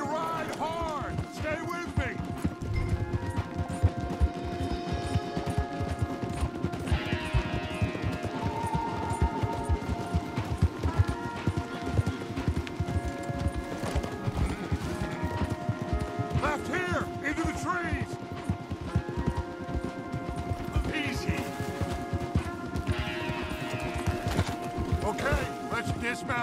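Horses galloping in Red Dead Redemption 2 as riders flee, a steady drumming of hooves that runs throughout under a constant bed of music and game sound.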